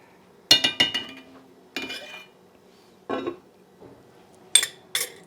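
A lid clattering onto a pan on the stove while cooking a spaghetti squash sauce with onions, heard as several close metallic clinks and knocks in separate bursts, with no talking.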